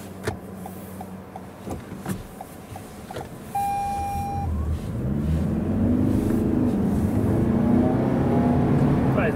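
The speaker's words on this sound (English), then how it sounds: "I will accelerate to around 60" Toyota RAV4 interior: a few beeps and a tone from the cabin, then the engine note rises steadily as the SUV accelerates toward 60, a smooth climbing hum that stays prominent to the end.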